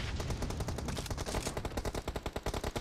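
Rapid automatic gunfire from an M4 rifle in the PUBG Mobile video game, a loud, dense burst of shots that continues for about three seconds and grows more distinctly separated toward the end.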